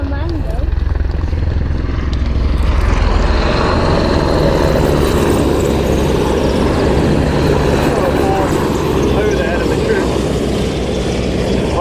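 Propeller aircraft with retractable undercarriage passing during the Commando Assault finale at Yeovilton Air Day 2015, a loud continuous engine roar and rotor thrum throughout, with a commentator talking over it.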